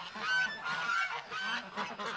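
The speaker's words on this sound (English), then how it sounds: "Look at all these ducks." A flock of ducks calls together in a continuous overlapping chorus of nasal honks and quacks at moderate distance, with no talk over it.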